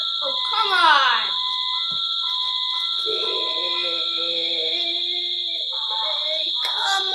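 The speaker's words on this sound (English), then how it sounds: "False alarm. False alarm. This could kill my eardrums." A fire alarm blares with a steady, piercing high tone that runs unbroken through the whole stretch, loud and close, while people shout and talk over it.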